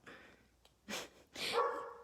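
A yellow Labrador gives two or three close, loud barks in quick succession, with short quiet gaps between them and no talking over them.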